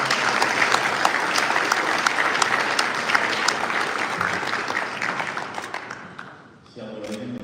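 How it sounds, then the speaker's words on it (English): An audience at a graduation ceremony breaks into loud, sustained applause, dense clapping that fades out near the end before a voice begins speaking. "Please give a big round of applause."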